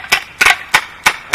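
An Umarex Steel Force BB gun fires a quick burst of four snappy pops. The pops are evenly spaced, close and crisp, with no talking.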